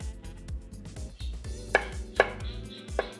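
A knife chops garlic on a cutting board in quick, regular close-up strikes, with a few sharper, louder knocks standing out from the steady rhythm.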